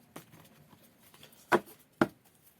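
Cards being shuffled by hand for a divination reading, with a faint rustle followed by two sharp, close riffling snaps about half a second apart.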